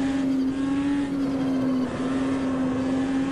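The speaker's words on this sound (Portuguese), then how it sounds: "O som do carro é lindo, é uma delícia." Race car engine in the Automobilista 2 simulator holding a steady high-pitched drone at near-constant revs, with a brief dip around the middle before settling back, loud and unbroken.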